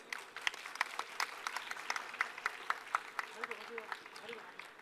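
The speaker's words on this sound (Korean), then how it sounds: "시작하기 전에 박수로 시작할까요?" A small audience at a startup pitch competition claps before the first round, with scattered, uneven hand claps that are moderately close and fairly light, rising and thinning over a few seconds.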